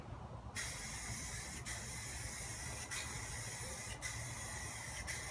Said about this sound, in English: I spray, I let go, and I spray again